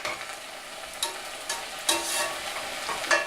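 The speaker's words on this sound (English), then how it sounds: "I want to just lightly caramelize the onions and these peppers" Sliced onions and peppers cooking lightly in a hot pan, a soft steady sizzle broken by several sharp scraping stirs spaced about half a second to a second apart, close and without talk.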